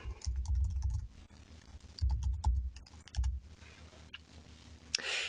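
Typing on a computer keyboard, with bursts of rapid clicking keystrokes separated by short pauses, close and fairly quiet, with no talking.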